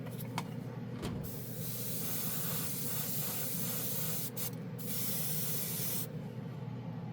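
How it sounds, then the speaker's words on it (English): An Aventus Midnight Tide airbrush sprays atomized paint in a steady close-up hiss, broken by a few brief pauses and bursts of stronger airflow. "Yeah, I like the way it atomizes the paint really good."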